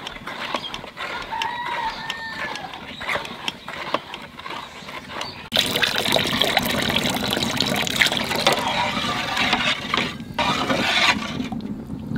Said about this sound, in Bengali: পাঁচ কোটো গুড়ির মধ্যে 10 কোটো জল দিছি